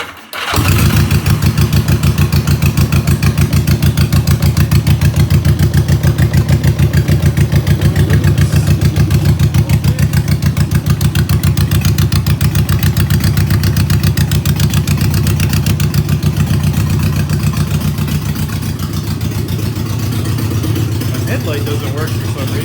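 A bobber motorcycle, just repaired and running on a little choke, idles steadily with a loud, rapid, even putter that continues alone throughout.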